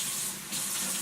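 Tap water runs steadily into a kitchen sink while hands are washed before preparing a beef roast, a close, continuous splashing hiss with a slight dip midway.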